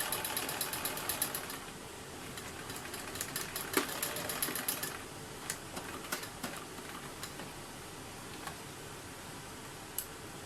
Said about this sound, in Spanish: Lo monto el doblez que ya tenemos planchado y ahí sí abro para que no se nos descuadre por el otro lado. Y cosemos.